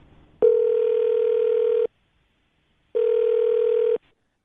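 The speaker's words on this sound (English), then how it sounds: "I'm going to dial her phone number right now." A telephone line tone sounds as someone dials a phone number: two long, steady electronic tones, each about a second and a half, separated by a pause of silence, clear and close.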